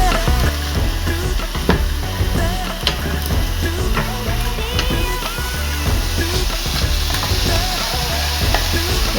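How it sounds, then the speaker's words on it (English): Spinach sautés in a hot pan, stirred vigorously, giving a loud, dense crackle and sizzle broken by constant scraping and tapping of the utensil throughout. "you're going to get all that sauteed"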